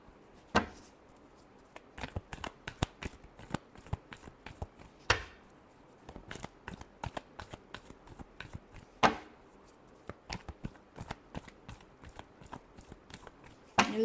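Tarot cards being shuffled by hand, a run of crisp riffling bursts and sharp slaps repeating at close range, quiet and with no talking.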